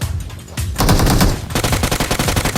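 Rapid automatic gunfire from a PUBG Mobile match, dense bursts building into a loud, steady volley of close shots with sharp repeating cracks toward the end.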